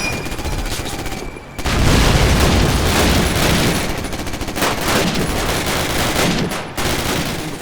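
MG34 machine gun fire in Call of Duty, a Battle of the Bulge level, heard as dense, loud sustained automatic bursts with booming shots, briefly dipping before resuming, no talk.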